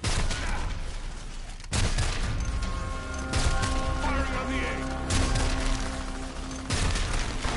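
Gunfire in a team shooter game aimed at an egg target: sustained crackling volleys with bursts and a few heavier booms, loud and continuous under occasional voice chatter.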